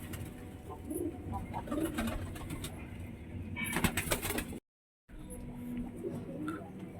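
Pigeons coo steadily inside a loft, a close, continuous mix of low burbling calls with a brief burst of wing flutter, and the sound cuts out for a moment before the cooing resumes.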